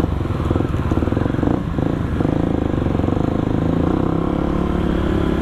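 A motorcycle with a newly changed rear sprocket rides on the road toward Lembang, its engine droning loud and steady throughout with a slight rough pulse and no talk.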